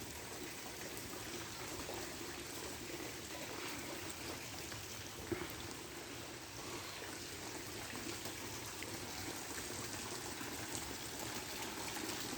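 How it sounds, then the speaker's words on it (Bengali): Rain falls outside a poultry farm as a faint, steady hiss of drops that holds evenly throughout, with no talking. "বৃষ্টির কারণে প্রতিদিন অতিরিক্ত বৃষ্টি হইতেছে"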